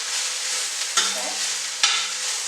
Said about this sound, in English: over here I have my cabbage frying. Just want to get a little sizzle to it.